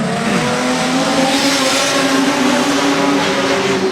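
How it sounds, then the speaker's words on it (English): Production sedans at Moora Speedway roaring away at the start of a heat race, a dense loud wall of revving engines from a pack of cars close by, no talking. "Set for the start. They're away and racing."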